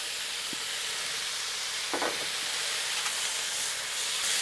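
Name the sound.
bacon frying on griddle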